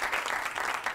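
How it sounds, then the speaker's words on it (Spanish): Studio audience applause at a Catalan television interview show, steady dense clapping throughout, alone without talk. "Un aplaudiment, per favor."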